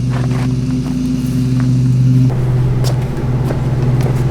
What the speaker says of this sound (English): so sorry about the lawnmower in the background